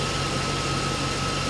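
A Corvette's 5.7 liter V8 idles steadily under an open hood, giving a continuous close, even engine rumble with a constant whine, and no one speaks.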